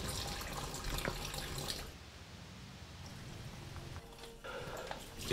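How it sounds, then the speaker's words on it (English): About 500 ml of water is poured for blending bitter leaf and scent leaf, a continuous splashing flow that is loud at first, then quieter and steadier, with a brief pause near the end. "So here's the quantity of water I'm adding, just about 50 cl, that's about 500 mils of water"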